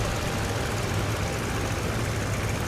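Steady low drone of a WWII-era aircraft engine in the combat flight sim IL-2 Great Battles, a continuous broadband roar with a strong low hum, constant and fairly loud throughout with no talk.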